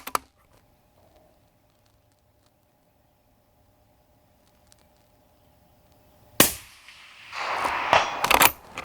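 A single rifle shot at a long-range target cracks loudly after a long quiet stretch, followed by a burst of broadband noise and a sharp closing crack.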